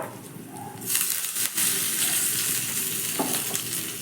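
Whole cumin, ginger pieces and curry leaves hit hot oil in a pan, sizzling sharply with a burst of loud crackle after a second, then a steady close spitting sizzle.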